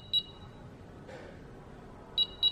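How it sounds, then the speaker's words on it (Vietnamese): A replacement fan control board for a Mitsubishi LV16-R fan, powered from 5 V on a bench, gives a short high electronic beep, then a quick double beep near the end, clear and close over faint background hiss. "nó cứ chuyển trạng thái là nó kêu hai lần tít tít"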